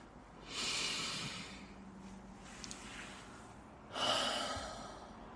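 A soft, close deep breath: one long airy inhalation and then a quieter pause, followed by a strong, breathy exhale toward the end, with no talking over it.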